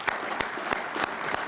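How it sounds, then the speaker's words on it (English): Crowd applause at a United States Army Oath of Service ceremony, honoring new recruits' families; brisk, dense clapping from a sizable audience with a few sharper individual claps standing out. "Now let's hear it for all your family members"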